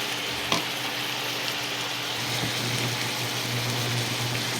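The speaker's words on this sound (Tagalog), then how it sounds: "kaunting gisa pa guys" Ground pork and sayote sautéing in a frying pan, a steady, close sizzle like light rain with occasional scrapes and clinks of a ladle stirring against the pan.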